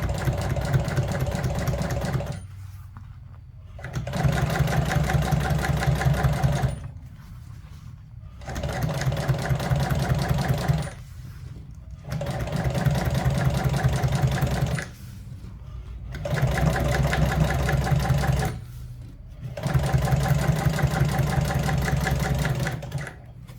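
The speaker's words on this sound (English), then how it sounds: "so we'll go ahead and start the top stitch" Sewing machine top-stitching a Harley motorcycle seat cover, running in five long steady bursts of fast needle clatter separated by brief pauses, close and loud.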